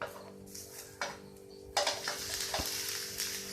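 A sweet banana milk dosa sizzles in a pan after being flipped, with a steady frying hiss and scattered clicks and scrapes from a spatula against the pan, no voices.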